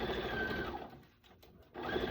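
A sewing machine stitching fabric runs with a steady mechanical whir, pauses briefly, then resumes, close and clear with no talk.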